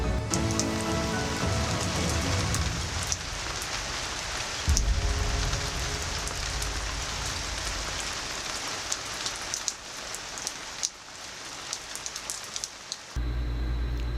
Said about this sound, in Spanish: empezó a llover y cada vez lo hacía con más fuerza, hasta que se convirtió en un aguacero torrencial